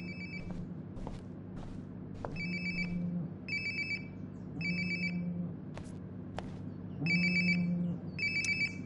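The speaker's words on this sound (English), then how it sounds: "Sounds like my phone is definitely nearby." A mobile phone rings nearby in repeated bursts of a bright electronic ringtone, several short cycles separated by brief pauses, over a faint low room hum.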